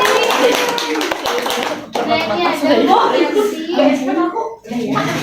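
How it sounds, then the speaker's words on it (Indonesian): A classroom of young students clapping together for a classmate, a steady burst of close hand claps mixed with children's voices and a teacher talking over it. "Boleh tepuk tangan untuk Messi"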